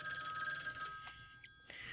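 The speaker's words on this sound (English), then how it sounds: "Somebody answer the goddamn phone, please." A telephone rings with a bright, repeated electronic bell tone, moderately quiet and heard alone for a couple of seconds.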